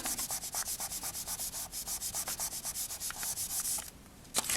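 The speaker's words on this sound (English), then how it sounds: "give it a good burnish to stick them together" Polymer clay cane slices are rubbed together in quick, even strokes, making a soft, rapid, close-up scratching rhythm that slows briefly near the end.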